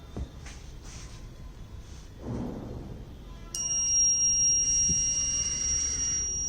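Gas leak detector buzzer on an Arduino-built LPG leakage detection and valve control unit, a steady high electronic tone starting midway and holding to the end, loud over faint mechanical clicks and a fan whoosh.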